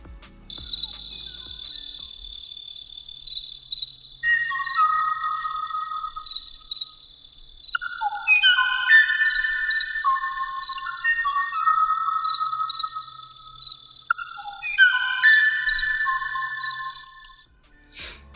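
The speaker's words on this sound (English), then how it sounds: "we had a recording of the extinct bird call" A recording of an extinct bird's call: a series of varied whistled phrases that repeat, heard over a constant high insect-like trill in an otherwise quiet setting.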